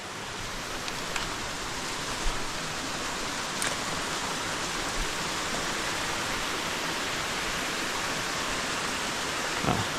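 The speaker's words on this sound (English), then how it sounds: "see how much water's coming out of that as well" Orange-stained water rushing out of an old mine water channel, a dense continuous roar of flowing water, loud and close with no voices.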